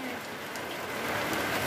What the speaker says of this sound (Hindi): ये देखो आइस, छोटा छोटा वाला आइस आज का बारिश में